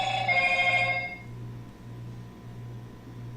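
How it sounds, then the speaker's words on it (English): Phone ringing during a talk, a short electronic ring burst lasting about a second at close range, followed by a low steady hum. "phone's going crazy, but that's okay."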